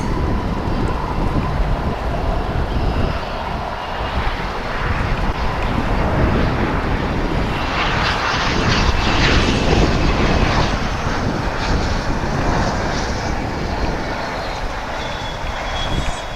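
Jet airliners at DFW Airport during plane spotting: a loud, continuous broadband engine roar that swells toward the middle as an aircraft passes close, then stays heavy and steady, with no talk.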